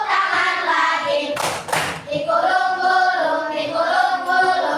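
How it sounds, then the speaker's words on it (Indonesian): Rhythmic hand clapping in an Indonesian children's action song, a short double burst of claps standing out over the continuous sung melody. "Buka tutup, tepuk tangan lagi."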